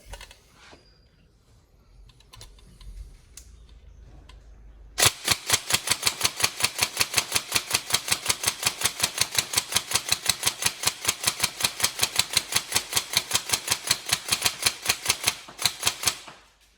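A repaired Tokyo Marui M4 NGRS airsoft electric gun fires a long, rapid full-auto burst of sharp, evenly spaced mechanical cracks, loud and close, after a few seconds of quiet handling noise.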